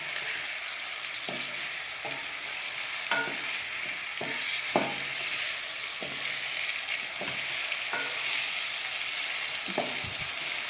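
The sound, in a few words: chicken frying in a pan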